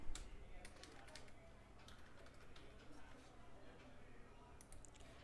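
Typing on a computer keyboard while entering text in Microsoft Word, quick irregular clicks of keys, close and fairly faint, running under a low background hum with speech.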